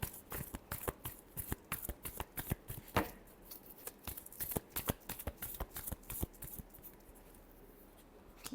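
Tarot cards being shuffled by hand, a steady run of soft, crisp riffling snaps close up, repeating rhythmically for several seconds with no voice over it.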